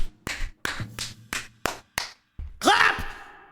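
A series of sharp hand claps ring out alone, six quick crisp strikes in an uneven rhythm, followed by a brief breathy sound, close and fairly loud.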